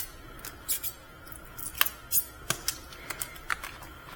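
Scissors trimming around a comic book, a series of short crisp snips spaced irregularly against a quiet background, with no talking.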